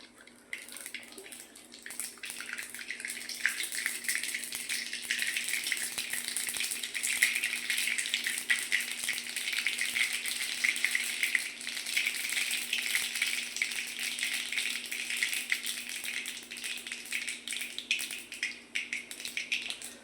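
Seeds crackle and pop in hot oil, a soft, continuous sizzling hiss with quick tiny bursts, fairly quiet and close.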